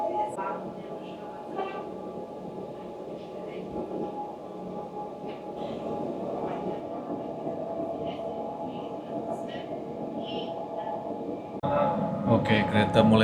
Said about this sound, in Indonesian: kereta mulai diberangkatkan lagi teman-teman dari Maribor menuju ke stasiun tujuan akhir di Zagreb